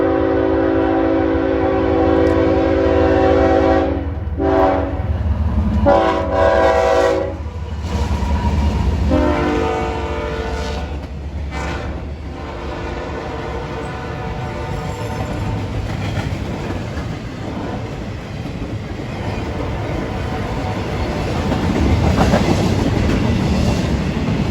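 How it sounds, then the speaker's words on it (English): A CSX freight train passing on a curve near Princeton, Indiana, with loud sustained horn blasts at the start, then a long steady rumble and rhythmic clatter of railcars rolling by close. "So here comes a train, CSX."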